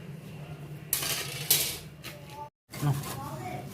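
Washed ripe palm fruit rubbed by hand against a scraping tool, giving rough scraping and squelching strokes in bursts, close up, with brief clatters and a short pause.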